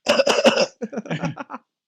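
A rapid cluster of about five harsh coughs, followed by a looser run of softer coughs and throat-clearing rasps, close and fairly loud with no talk, sounding like a person playfully mimicking a staged quiz-show cough.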